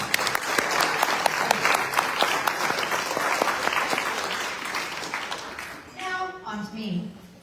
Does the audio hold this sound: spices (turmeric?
no